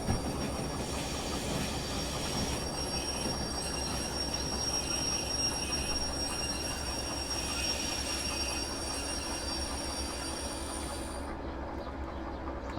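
A train engine runs in the railway simulator Derail Valley, a loud continuous rumble with steady droning tones and faint squealing wheels, holding throughout with no talk.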